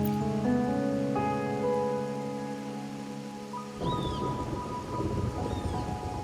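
Steady rain hisses down during a stormy night in Wuthering Waves, arriving abruptly after a few seconds of soft sustained musical tones and continuing as a dense, close wash of falling water with no voices.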